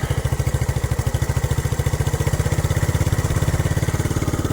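A 1967 Honda CT-90 Trail 90 engine idles steadily up close, a loud, even, rapid single-cylinder putter that holds its beat throughout with no voices over it.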